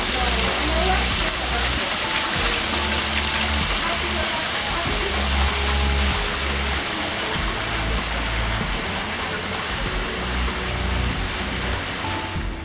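Waterfalls behind an amphitheater at Sunken Gardens in St. Petersburg, Florida, a steady broadband rush of falling water running nonstop at moderate loudness, with someone talking over it.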